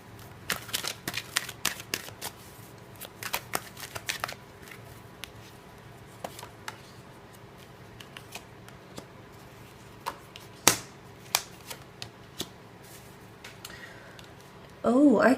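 Tarot cards are shuffled and handled during a reading: scattered sharp flicks and snaps come at irregular intervals over a quiet room, and a short louder burst arrives at the end.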